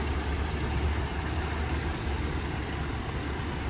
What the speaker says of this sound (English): Sitting here idling quietly with the 318 V8.